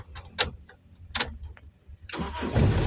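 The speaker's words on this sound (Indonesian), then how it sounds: "kita starter lagi coba" Toyota Kijang LGX EFI engine cranking, with a few short clicks and starter whirs, then catching and firing up into a loud, steady running roar at close range.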